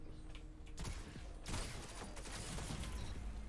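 Hand cannon shots in a video game: a rapid burst of sharp gunfire layered with mechanical clicks, fairly loud and dense, with no talk.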